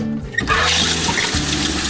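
Water rushes out of a camper van's waste tank during emptying, a loud, steady gushing flush like a toilet that starts abruptly and carries on without pause.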